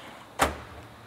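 A slim drawer on a mechanic's tool chest slides open with a single short, sharp metallic clack, heard alone against quiet room tone.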